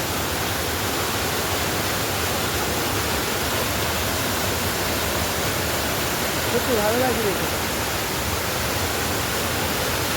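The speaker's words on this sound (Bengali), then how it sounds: "পাহাড়ের এই অপূর্ব ঝর্ণাটা।" A mountain waterfall in Darjeeling's hills, water cascading down rocky steps, gives a loud, steady broadband rush that fills the whole scene, while a voice speaks briefly over it.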